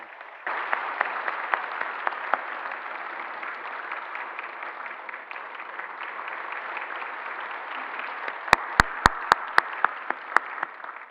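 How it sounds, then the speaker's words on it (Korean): Church congregation claps to welcome a newly registered married couple during a Sunday service, a long, even patter of many hands at moderate volume, with a few sharper, louder claps standing out near the end. "우리 반갑게 박수로 환영하도록 감사합니다"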